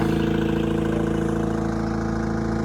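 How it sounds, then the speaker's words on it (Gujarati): Fishing boat engine running at sea off Sartanpar harbour near Talaja, a loud, steady, close throbbing drone with an even pulsing rhythm and no break. "આ એનું એન્જિન છે જો. આ એન્જિન છે એનું."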